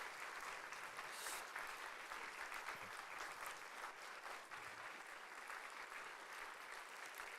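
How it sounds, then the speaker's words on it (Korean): A church congregation at an evening revival service claps steadily and evenly for about seven seconds, a broad sustained applause heard at a distance and at fairly low volume. "우리 멋진 형님과 누나들을 위해서 다시 한번 박수."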